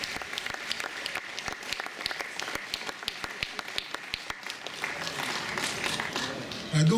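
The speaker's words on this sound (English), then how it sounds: "You don't need to applause every time I go through." Audience applause at a poetry performance during a Berlin festival, steady dense clapping throughout that swells louder toward the end.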